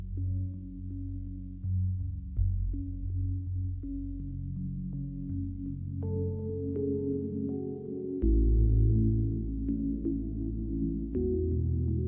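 A sample lifted from a movie plays alone as sustained, layered tonal chords that shift every couple of seconds, with a low droning bed and a thin high whine above, steady and moderately loud.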